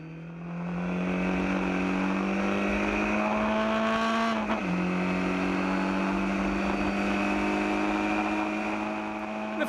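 Race cars battle for third place on a circuit: a loud engine howl rises in pitch, drops sharply at a gear change, then climbs again as the cars pass, with no voices heard.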